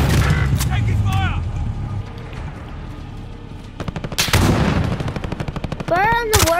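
Gunfire in the video game Call of Duty: bursts of rapid automatic shots and single loud reports, close and heavy, mixed with game sounds, while players shout over it.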